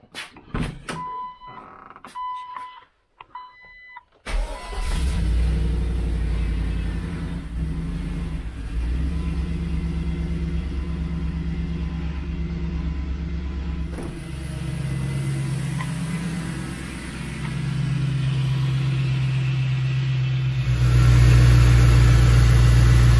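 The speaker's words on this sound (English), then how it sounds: "Sensor's disconnected. We can go ahead, start the vehicle." A car engine with its mass air flow sensor unplugged cranks briefly, catches and settles into a steady close idle that holds with a slight rise in pitch near the end.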